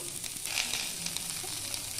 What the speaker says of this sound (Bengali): এই তেলের মধ্যেই দিয়ে দিচ্ছি আগের থেকে কেটে রাখা আলু এটাকে আমি একটু ভেজে নেব